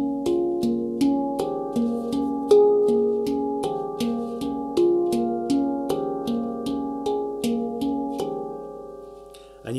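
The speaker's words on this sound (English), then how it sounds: "I can play this sequence that I'm playing on the top shell up and down" A handpan's top shell is struck in a note sequence running up and down, with quick, evenly spaced metallic tones that ring and overlap, close and unaccompanied, for nearly ten seconds.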